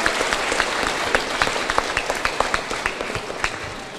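An audience at a provincial quiz competition final breaks into sustained applause, many hands clapping densely and evenly, fairly loud and without talk, tapering slightly toward the end.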